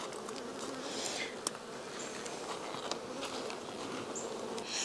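Honey bees buzzing on a hive frame, a dense steady hum of many bees close by with a few individual insects droning past, faint and continuous with no talk.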